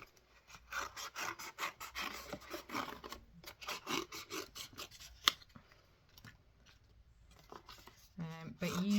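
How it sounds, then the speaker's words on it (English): Scissors snip through card to cut circular stencil shapes for gelli printing, a close, rapid series of rasping cuts that pauses briefly midway, then resumes with a louder rustle of the card at the end. "what we're going to do is we're going to cut 3 or 4 stencils"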